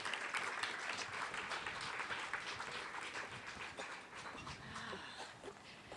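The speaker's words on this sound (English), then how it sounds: "So would you give a round of applause to our Dr. Brooke Cunningham as she comes on back up?" An audience at an African American community health office event applauds Dr. Brooke Cunningham, a faint, steady wash of clapping that sounds distant and continues evenly throughout.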